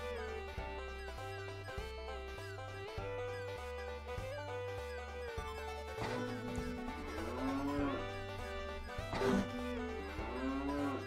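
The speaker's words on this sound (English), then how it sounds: "I'm sending some cows home." Cows moo repeatedly in a farming video game, several drawn-out calls over a steady musical background with no talk.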